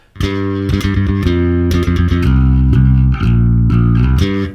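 A bass guitar plays a busy, three-finger-picked sixteenth-note line, with low notes plucked rapidly and evenly and no other instruments or voices.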